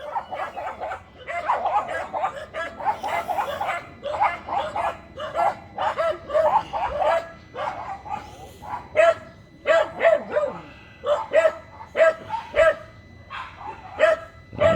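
Many dogs barking repeatedly in a Philippine street, a busy overlapping chorus of sharp barks and yips at close to mid distance, continuing throughout with brief voices in between.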